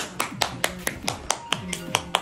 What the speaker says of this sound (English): let's clap for Malaika.